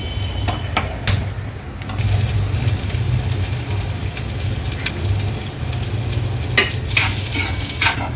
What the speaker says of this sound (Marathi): इथे आपण पॅनमध्ये तेल टाकलंय आता त्यामध्ये घालूया कांदा